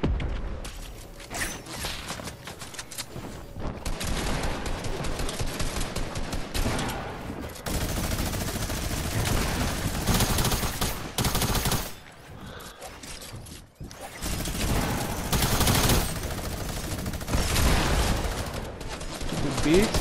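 Rapid gunfire in Fortnite during a close fight, dense bursts and fusillades running nearly throughout with brief lulls, under excited player chatter.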